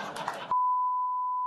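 A single sustained censor bleep on a late-night TV comedy talk show, a pure flat tone lasting about a second right after a burst of studio chatter, cutting off abruptly.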